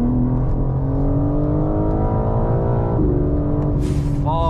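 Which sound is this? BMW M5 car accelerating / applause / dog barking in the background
BMW M5 car accelerating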